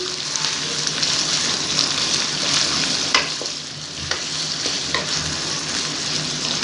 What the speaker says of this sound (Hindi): प्याज हमें ब्राउन नहीं करने, बस जस्ट इसे सौते करेंगे हम।